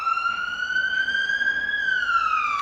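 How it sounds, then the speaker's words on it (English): A loud ambulance siren sounds very close, its wailing tone rising slowly then falling in one sustained sweep over steady background noise, no talk. "Fucking ambulance is loud as fuck."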